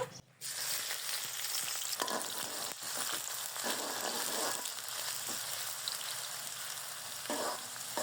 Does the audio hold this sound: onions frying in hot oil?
yes